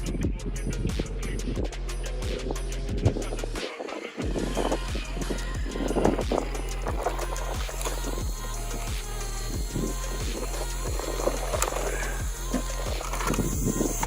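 A Traxxas Bandit RC car with a $40 XTeam 3665 brushless motor on 2s runs outdoors in chilly weather, a steady high-pitched motor whine with broadband rumble and rapid ticking that holds throughout, with one brief dropout midway.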